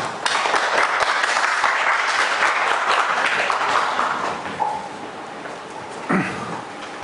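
An audience at a conference claps steadily in continuous, dense applause to welcome a professor, then the clapping thins out near the end.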